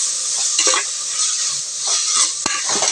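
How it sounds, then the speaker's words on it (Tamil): Steady sizzling of onions frying in oil, with a spoon scraping and stirring through the pan at intervals, close by. "நல்லா வதக்கிக்கலாம்."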